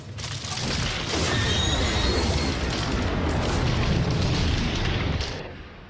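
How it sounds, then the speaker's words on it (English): A massive film sound-effect ship explosion roars and rumbles for several seconds, layered with sharp clanking metal hits and railroad cars coupling, crashing before fading at the end. "Sharp metal hits and the sound of railroad cars coupling are added to the ship explosion."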